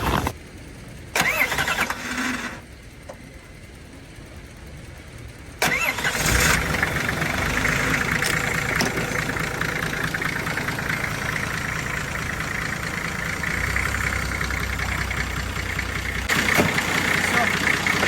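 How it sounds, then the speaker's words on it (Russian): A Nissan Safari engine cranks and catches after being thawed out, then settles into a steady, loud, close idle that carries on to the end. Some clatter comes at the start, and there are brief pauses before the engine fires. "Сейчас с этой нашей необычной схемой мы попробуем запустить двигатель."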